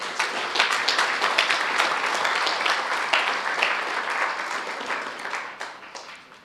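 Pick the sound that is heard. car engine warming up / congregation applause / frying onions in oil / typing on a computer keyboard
congregation applause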